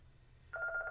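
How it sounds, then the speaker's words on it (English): A faint electronic office telephone ring, a short warbling tone pulse starting midway, over quiet background hum. "pardon the phone ringing there"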